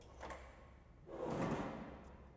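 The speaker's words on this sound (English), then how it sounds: "Open the door." A safe door fitted with an S&G 2890B lock swings open after unlocking, a soft muffled thump followed by a broader, heavier rumbling movement, quiet and close with no talk.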